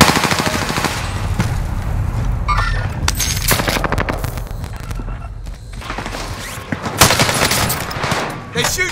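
Rapid automatic gunfire in a shooter video game, bursts of rattling shots that come and go over several seconds, loud and close with a few sharper cracks near the end.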